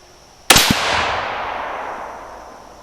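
One loud, sharp crack from a .22 Creedmoor rifle shooting 80gn ELD-M bullets, followed by a quick second report and a long reverberant tail fading outdoors.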